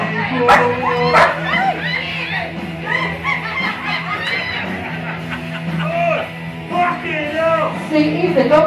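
Dog yipping, whimpering and barking in short irregular bursts during karaoke at a hotel nightlife spot, mixed in with people talking and laughing throughout.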